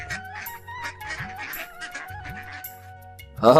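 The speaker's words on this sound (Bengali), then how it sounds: "রমেশ ভাই, তুমি দেখি পুকুর ভরে হাঁস পুষতে শুরু করেছো।" Cartoon ducks on a village pond quack and honk in short repeated calls over a soft background tone, ending with a brief louder burst.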